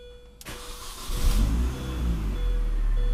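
A 2002-2006 MINI Cooper S engine cranks and starts at about half a second, then settles into a steady, close idle with no voices.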